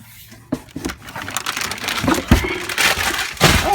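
A peritoneal dialysis bag being handled, its plastic crinkling and crackling in close bursts that grow busier and louder over a few seconds, with a couple of sharper crunches.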